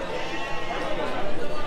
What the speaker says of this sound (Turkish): Burada bir koyunumuz var